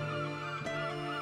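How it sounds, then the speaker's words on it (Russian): Canada geese honk in a short, nasal call, fairly close, over a faint steady background. "А это залетные гости в наших краях – канадские гуси."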